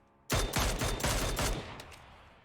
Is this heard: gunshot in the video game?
yes